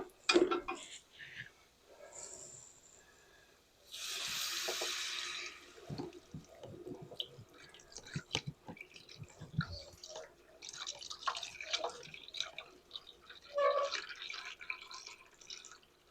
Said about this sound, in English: then we're going to add our whole milk and our heavy whipping cream